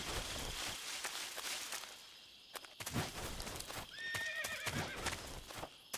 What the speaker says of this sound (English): Why is there a horse out here?